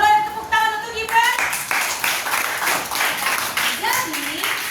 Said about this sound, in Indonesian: Boleh tepuk tangan untuk Gibran.